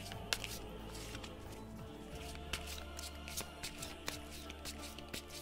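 Tarot cards being shuffled by hand in a quiet room, giving a steady papery riffle with a few sharper snaps, close and fairly soft, with no talking.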